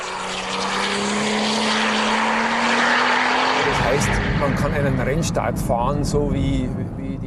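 A Porsche 911 makes a launch-control start from first gear: a steady rising engine tone builds, then bursts into a loud, full roar as the car pulls away, with a voice speaking over it.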